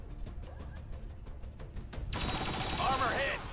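Rapid bursts of turret gunfire in the strategy game XCOM 2 during an assault on a Quebec headquarters, sharp repeated shots followed by a louder sustained volley, with someone talking over the action.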